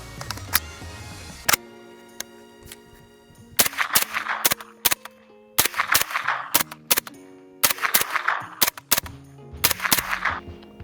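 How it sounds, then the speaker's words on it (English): An MP5 fires a mixed string of supersonic and subsonic rounds, sharp loud single shots with uneven pauses, some spaced apart and some in quick pairs and bursts, with ringing echoes after each report. "So this time we're going to be shooting supersonic ammo and then subsonic ammo."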